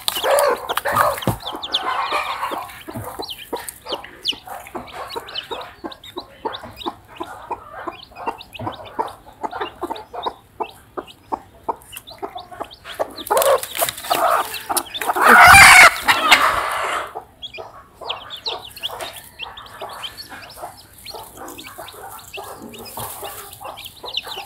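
Newly hatched Australorp chicks and hens cluck and peep steadily on a farm, a dense run of short calls with a louder burst of clucking midway, close and continuous with no talking.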